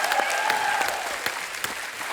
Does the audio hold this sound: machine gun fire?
no